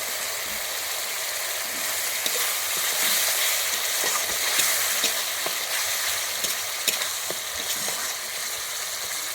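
Tomato paste fries in oil with spices for a Bengali rui fish kalia, with a steady close sizzle and frequent stirring taps and scrapes throughout. Nobody talks.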